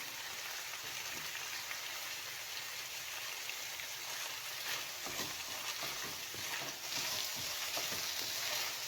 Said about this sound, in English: we're just gonna stir in some rice here